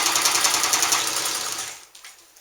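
A Sterling 100 Deluxe sewing machine stitches through bonded leather, running a fast, steady, even mechanical chatter up close for about two seconds before it stops.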